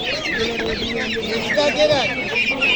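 Chickens cluck steadily at a bustling poultry bazaar in Mingbuloq district, with overlapping hen calls close by and voices talking in the background throughout.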